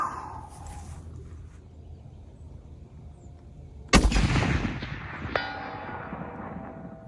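A Steyr Hunter rifle in .300 Winchester Magnum fires one loud, sharp shot outdoors partway through, following quiet ambient noise, with a long echoing decay and a fainter second report a moment later.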